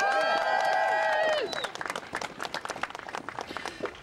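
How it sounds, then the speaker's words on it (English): Rally crowd at the Capitol applauding loudly for supporting higher education, a dense wash of clapping that opens amid sustained cheering and whistles, then thins into scattered claps. "give yourself a round of applause"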